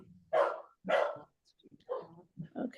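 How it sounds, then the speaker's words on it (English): Dogs barking indoors during a knitting video call: two loud, close barks, then several quicker, softer yips and barks from more than one dog. "Okay, all dogs are gonna chime in now."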